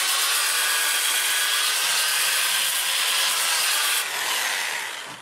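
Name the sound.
sanding a flame maple burl wood turning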